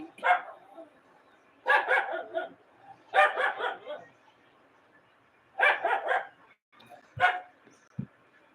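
A dog barks in four or five short bursts of several quick barks each, moderately close, with quiet pauses between.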